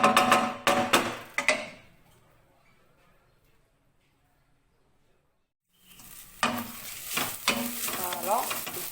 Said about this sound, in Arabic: فوالا البصله هاي هبطات كتحمر، درت معاها الثومه